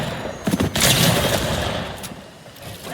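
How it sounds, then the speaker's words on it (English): Fortnite gunfire from a shotgun, assault rifle and SMG alternating in an early fight, with loud, rapid overlapping shots over a dense battle ambience. "Alternating shotgun, assault rifle, and SMG"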